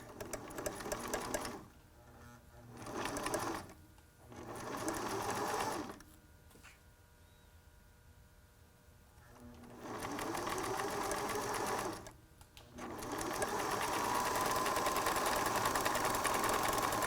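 A sewing machine runs in several bursts of steady, close stitching through a T-shirt face mask, stopping and starting with short quiet pauses between runs and a long continuous run at the end.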